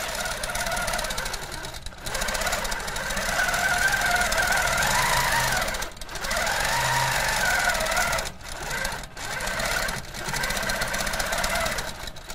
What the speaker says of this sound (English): okay, I've done a little bit of stitching